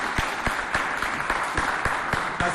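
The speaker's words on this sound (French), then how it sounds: "Applaudissez!" An audience at a festival stage show in Chad breaks into applause, with a dense wash of clapping punctuated by sharper, regularly spaced claps.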